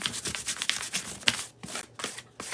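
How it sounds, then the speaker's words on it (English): Light sanding on a surface before using vintage texture stamps gives short, irregular scratchy strokes, close and fairly quiet, with brief pauses between them. "So you just want to give it a light sanding."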